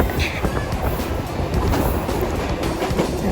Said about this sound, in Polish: pociąg jedzie jak gdyby z tego szczytu górskiego zjeżdża w dół aż do miasta Soler